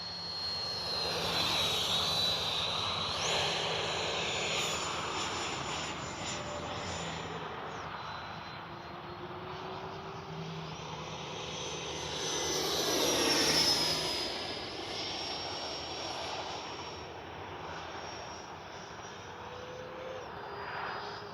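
An X-Fly Sirius 80mm RC sport jet flies overhead, its steady ducted-fan whine swelling and fading as it passes and returns, a continuous airborne roar with no voices.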